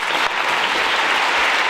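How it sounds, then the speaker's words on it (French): A cinema hall audience claps at a film screening event, a brief, loud, dense burst of applause filling the room without pause. "je voulais pouvoir applaudir cette femme, Sheikha Fouskala"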